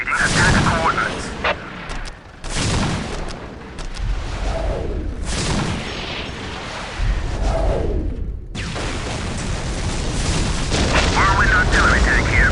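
Whirlwind missile battery artillery fire in the Warhammer 40K game Dawn of War, with several loud booming launches and blasts spread across the stretch, broken by brief quiet gaps and mixed with battle noise.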